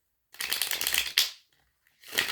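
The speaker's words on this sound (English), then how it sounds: "That wasn't a good shuffle either." Tarot cards being riffle-shuffled by hand, a dense crisp flutter lasting under a second, a brief pause, then another burst of rapid shuffling close up with no talking.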